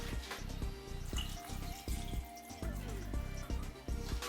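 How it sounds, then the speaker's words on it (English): Water pours steadily into a soup pot of vegetables on the stove, a continuous splashing gush with small drips, close by and partly under music or a voice. "now we're going to add water right up to the vegetable line."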